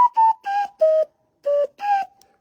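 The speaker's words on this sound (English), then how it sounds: "there's my record of my hand whistle" Whistling through cupped hands produces a melodic run of six clear, hollow notes at shifting pitches, each short and separated by brief pauses, played alone and up close.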